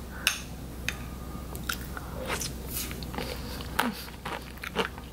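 Barley sprouts mixed with yogurt and honey being eaten, with several sharp crunchy bites and soft chewing close to the mic over a quiet room hum, no talking.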